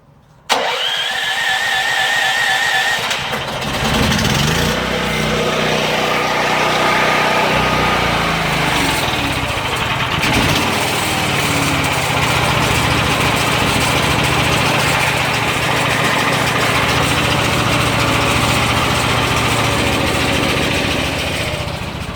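A dual fuel whole house generator engine cranks and starts, then runs with a steady, loud, continuous drone and mechanical rattle that fills the whole stretch, with no talk over it.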